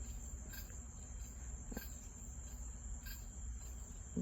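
Cicadas give a steady high, shrill buzz that carries on throughout. Faint pulsing chirps recur at intervals over a low background rumble. No one speaks.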